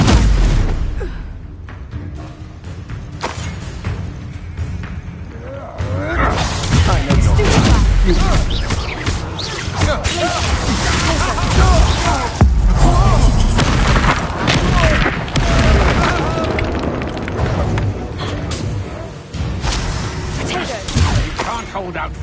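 Spell casting and magical impacts in the video game Hogwarts Legacy, a run of loud booms, crashes and shattering bursts layered over one another, with a voice shouting now and then.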